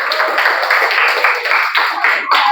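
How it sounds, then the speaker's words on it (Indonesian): Children applauding in a classroom, a dense burst of rapid, bright hand claps that keeps going for a couple of seconds, loud and close with no talking. "Tepuk tangan untuk Nadira dan Rai."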